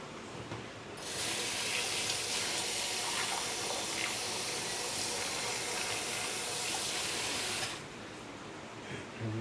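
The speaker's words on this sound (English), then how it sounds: "I'm just grab some water and drop in there." Water from a tap gushes into a cooking pot in a kitchen, a steady loud hissing pour lasting several seconds before it shuts off, with no voices.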